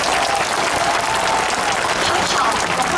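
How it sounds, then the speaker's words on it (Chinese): An audience applauds the four musicians on stage at a concert, a dense, steady roar of clapping from a large crowd filling the room, with a voice talking faintly underneath. "今天在台上的四位 最棒的辛苦的乐手，我们给他们掌声"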